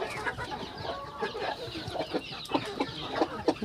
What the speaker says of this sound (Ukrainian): Півник зве. Кличе малих.